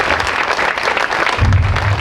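Audience applause for a mimicry artist at a golden jubilee celebration, a dense, steady clapping that swells louder toward the end with no voices over it.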